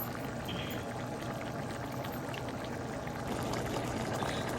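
Chicken gravy simmering in a pan, a steady soft bubbling and sputtering hiss that stays even and quiet throughout, with no talk.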